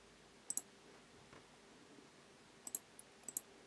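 Crisp mouse clicks while navigating a Synology Drive settings menu on a computer, a few sparse single and double clicks spaced out over quiet room tone.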